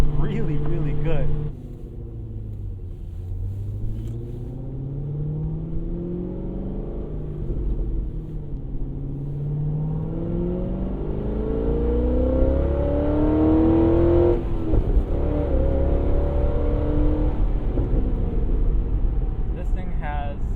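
A C6 Corvette Z06 engine with a Corsa exhaust rises and falls through several revs and gear changes, its deep exhaust growling and roaring loudly and close.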